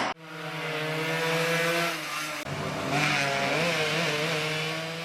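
Racing motorcycles at a street circuit championship in a town square, with loud high-revving engine whines that rise and fall as bikes pass close by, one after another.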